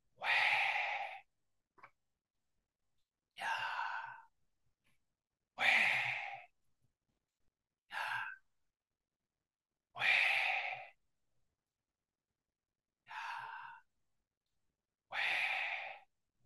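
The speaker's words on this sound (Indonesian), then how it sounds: "Dan kita buang nafas kita." Slow breaths are pushed out during a church service: seven separate soft, close exhalations, each about a second long, spaced by quiet pauses of a second or two.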